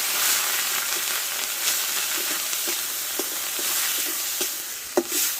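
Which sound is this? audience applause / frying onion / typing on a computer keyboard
frying onion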